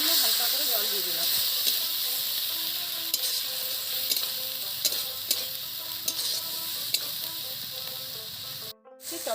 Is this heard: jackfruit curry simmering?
yes